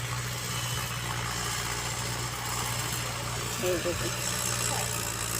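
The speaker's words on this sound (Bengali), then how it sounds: "ট্রাক্টর দিয়ে মাটি খুঁড়ছে" A tractor digging up soil in a field, its engine droning steadily with a low hum at mid distance, while a voice talks over it.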